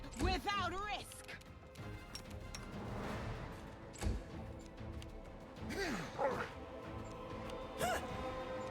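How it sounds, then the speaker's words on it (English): A dog in a tactical fantasy RPG battle barks and yips several times amid thuds, weapon strikes and voiced combat grunts, with a voice speaking over the fight. "I like the dog just getting a free attack of opportunity on the ranger every turn."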